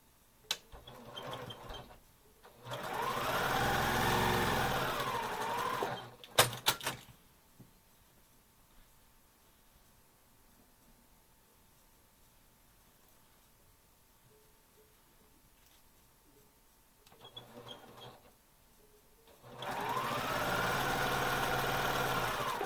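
A sewing machine stitches the corners of quilt blocks in three separate runs of steady mechanical whirring, each lasting several seconds, with quiet handling noises and near silence between them.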